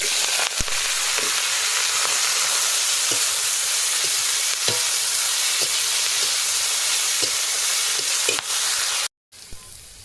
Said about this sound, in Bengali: কাঁচা লঙ্কা দিয়ে শাকগুলো ঢেলে দেবো